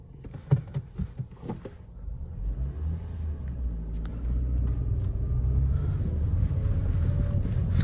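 A Toyota Corolla E180 heard from inside as it pulls away, a few knocks and handling noises giving way to a steady low engine and road rumble that builds, with wind buffeting.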